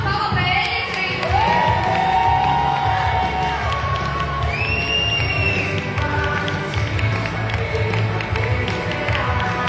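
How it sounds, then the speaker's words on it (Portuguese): A festive church crowd cheers and claps for a prize winner at a Bible celebration, with whoops, scattered shouts and rising excited voices over a dense, loud hall ambience. "A salva de palmas para ele, gente."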